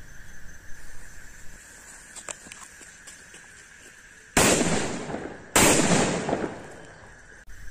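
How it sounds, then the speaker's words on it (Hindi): Two loud paper bomb firecrackers burst about a second apart at Diwali, each a sharp, close blast with a crackling tail, after a quieter stretch of faint pops and outdoor noise. "तो गैस पहला हम चलाएंगे पेपर बम, तो चलिए इसको चलाते हैं कैसे चलता है ये।"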